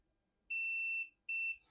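Multimeter continuity tester beeping on a Game Boy circuit board, two clean high-pitched tones, the first longer, the second shorter after a brief pause, close in a quiet room.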